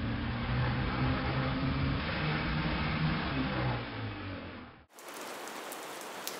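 Steady rain falls in a dense, even hiss with a low rumbling undertone, constant for about five seconds before it cuts off abruptly and gives way to a thinner, quieter wash.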